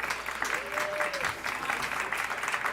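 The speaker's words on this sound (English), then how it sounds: "I think they deserve a hearty round of applause" Sustained applause from a TEDx audience, steady and dense clapping with a voice briefly rising over it.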